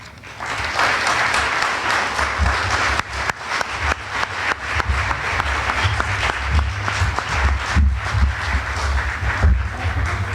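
An audience applauds continuously and loudly as candidates in a Democratic primary debate are welcomed to the stage, a dense wash of clapping with a few sharper claps and faint voices mixed in.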